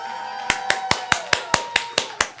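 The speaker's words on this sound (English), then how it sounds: "let's give him a round of applause" Slow, evenly spaced hand claps at a Nintendo NYC launch event for Zelda: Tears of the Kingdom, about ten in a row, each sharp and ringing briefly.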